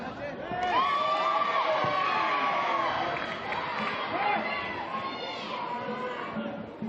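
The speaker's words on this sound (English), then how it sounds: "Crowd for both sides have picked up." Crowd noise swells steadily at a football semifinal between Darwin Olympic and Darwin Hearts, a continuous roar with whoops layered under a commentator's talk throughout.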